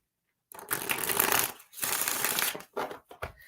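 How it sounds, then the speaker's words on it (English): Tarot cards being shuffled by hand in three bursts, a long riffling stretch followed by shorter flutters, close and fairly quiet with no talking. "I'm going to do a tarot card reading for you, Ginger."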